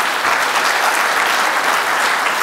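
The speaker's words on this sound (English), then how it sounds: "So a huge round of applause for Carrie Ann Philbin" A conference audience applauds Carrie Anne Philbin of Raspberry Pi with a continuous, even wash of clapping from many hands, loud and close, with no talk over it.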